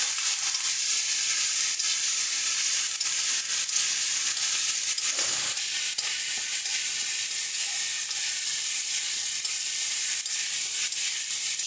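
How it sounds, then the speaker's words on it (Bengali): Spices sizzling in hot oil in a pan, being fried down for a pointed gourd curry; a steady, dense hiss runs unbroken throughout with a slight dip midway, no voices. "এবার সমস্ত মশলাগুলোকে ভালো করে কষিয়ে দেবো"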